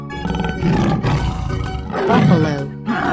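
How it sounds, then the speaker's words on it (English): A tiger roars in a 3D cartoon animal sliding game, two long, loud, growling bellows close up, separated by a short dip. "Tiger."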